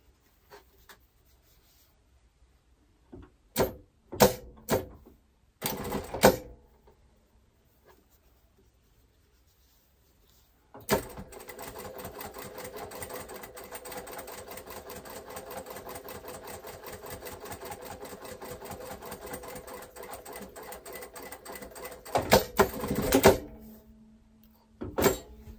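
A sewing machine stitches fabric for a pair of trousers: a few short taps and bursts, then a long steady run of rapid stitching lasting about ten seconds, followed by more brief handling noises.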